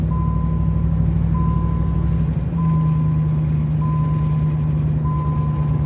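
A car engine runs steadily as the car rolls away after a brake repair, giving a loud, even, low rumble with a faint tone beeping at regular intervals.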